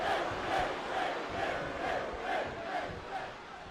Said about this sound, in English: Crowd is like, Finn, Finn, Finn. But then they also boo.